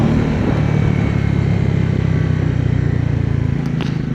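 A motorcycle being ridden on the mountain road from Leh to Nubra Valley in Ladakh, with a steady, loud engine drone and wind rush continuing without break and shifting slightly in tone near the end.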